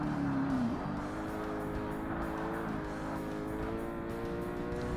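Race car engine in Forza Motorsport dropping from a high rev as it brakes, then a steady lower engine drone with tire noise running continuously and fairly loud throughout.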